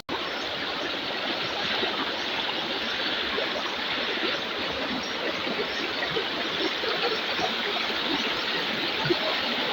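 Stream water flows steadily in a continuous rushing, bubbling wash at an even level, close by and uninterrupted, with no voices over it.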